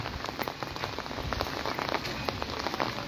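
Steady rain falls on a surface under a dark sky, a dense patter of drops spread evenly throughout, close and continuous with no voices.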